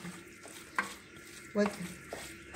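A spoon stirs a stuffing mixture for aubergines in a bowl or pan, giving a few short scraping clatters spread across a quiet background with no talk.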